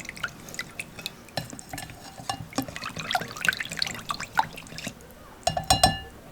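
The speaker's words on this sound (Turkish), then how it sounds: "Tekrardan bir daha çırpalım." A spiced sauce with black pepper, chili flakes and salt is whisked in a bowl, making irregular light clinks and wet taps, close up, ending in a brief flurry of louder strikes.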